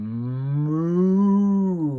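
A single drawn-out cow moo, loud and close, with a steady harmonic tone that swells slightly and fades near the end, heard alone.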